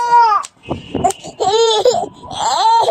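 A baby cries in a tantrum at a family gathering in Egypt, with loud wailing bursts broken by brief pauses and sobbing catches, close to the microphone.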